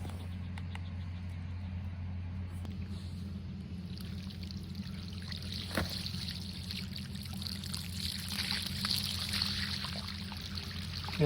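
Water flowing from a newly opened valve on a cabin water line at a homestead, a faint trickle and splash that builds slightly over a low steady hum, with no talking.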